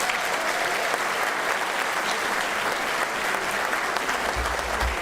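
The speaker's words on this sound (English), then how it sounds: "Let's please give them a round of applause." A crowd gives sustained, loud applause for teachers, law enforcement and military members at an event, a dense unbroken roar of clapping throughout, with a low rumble near the end.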